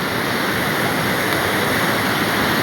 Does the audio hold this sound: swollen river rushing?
yes